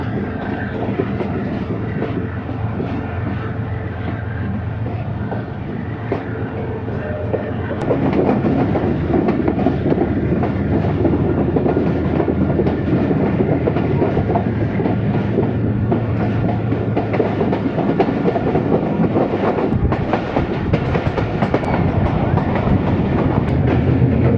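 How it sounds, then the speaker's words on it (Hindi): Khushhal Khan Khattak Express running on the ML2 Attock–Kohat railway line, a loud continuous rumble of wheels and carriages with rhythmic clickety-clack, growing heavier and louder partway through and sustained to the end. "ट्रेन अब मुड़ चुकी है ML2 पर अटक कोटली रेलवे लाइन पे जा रही है।"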